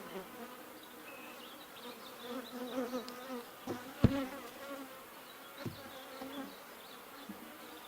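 Honey bees buzz softly around an open hive while a colony is being split, a low steady hum with a few brief louder knocks and clicks from the frames.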